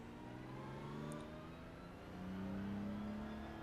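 A GT3 race car in iRacing on the Belle Isle street circuit accelerates with a continuous engine drone whose pitch climbs steadily, heard close and loud from the cockpit without talking.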